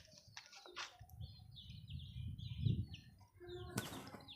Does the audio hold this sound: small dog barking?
no